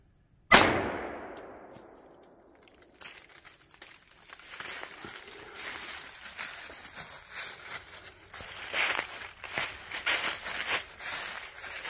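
A single sharp gunshot cracks outdoors near a tree while shooting down mistletoe, its report decaying quickly, followed by quiet rustling and faint crackling movement nearby.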